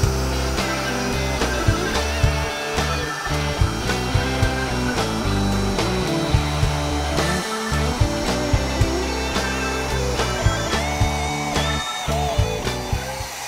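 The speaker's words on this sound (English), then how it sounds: "We're gonna take our router and we're gonna come backwards and do our climb cut." A handheld router makes a climb cut in wood nearby, a loud continuous whining roar with irregular chattering bites and thumps as the bit works through the board, and no talking.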